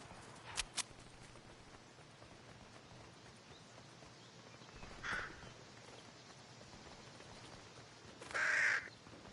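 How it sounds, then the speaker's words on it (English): Bird calls ring out in a Fortnite match, crow-like caws heard as a quick double call, then two more calls spaced seconds apart, faint against a quiet game background. "I hear a bird, but I don't see a bird."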